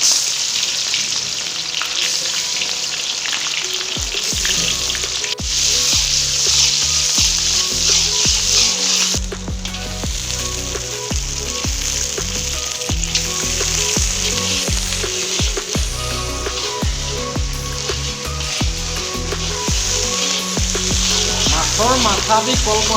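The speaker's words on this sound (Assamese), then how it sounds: "মাছৰ মাথা দি কল পচলাৰ জ্বলা ভাজি" Fish head and banana flower fry in a pan, with a steady, loud hiss of sizzling oil running throughout, joined by repeated scraping and clattering of a spatula stirring.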